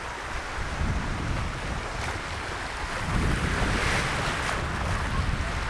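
Waves wash continuously along the Lake Michigan shore, a broad rushing surf with gusts of wind buffeting the microphone, steady and moderately loud with no talking.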